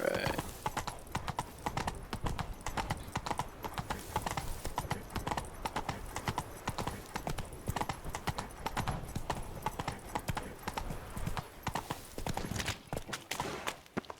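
Steady clip-clop of horse hooves in The Witcher 3: Blood and Wine, a continuous rhythmic trot near and fairly quiet, running without pause for the whole stretch with faint ambience.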